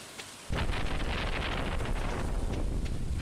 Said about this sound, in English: I like that the lightning storms can actually hit trees and knock them over